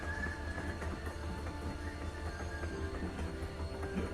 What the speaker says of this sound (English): A very loud train.